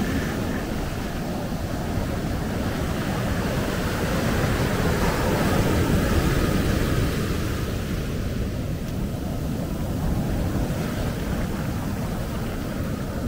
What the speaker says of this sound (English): cascade of waves.